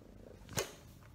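A house cat purrs softly at close range, a low steady rumble with one brief brushing rustle midway, quiet and short with no talking.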